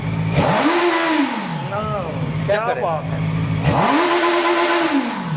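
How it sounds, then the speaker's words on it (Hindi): A loud heavy motorcycle engine revs up twice in strong swells, with someone talking excitedly over the roaring bursts. "साउंड में भी बाइक के नंबर पूरे"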